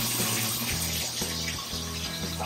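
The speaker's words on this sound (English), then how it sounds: "The hot water comes quick." Hot water runs steadily from a tap into a sink in a house fitted with a tankless water heater and a recirculating pump, a continuous close splashing rush with no talk over it.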